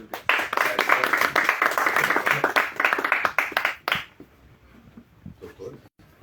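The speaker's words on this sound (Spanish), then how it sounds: "Recibamos a Orlando Parra con un aplauso" An audience at a debate event applauds for a few seconds, lively close clapping that fades out, followed by a quieter stretch with faint voices.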